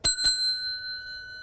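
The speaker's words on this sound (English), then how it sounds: "What about if I take this bell and I ring it?" A hand bell rung in a classroom setting: two quick bright strikes followed by a clear ringing tone that decays slowly, close and alone.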